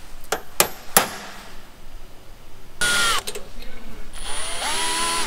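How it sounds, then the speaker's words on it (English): Sharp taps ring out first, then a power drill whines in two bursts, the second longer and steadier, close by, drilling a hole for safety wire near a turbo. "What I would like to do is drill this so I can put a safety wire on"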